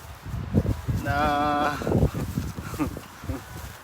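A goat bleats once in a wavering, nasal cry, with background voices and rustling noise around it.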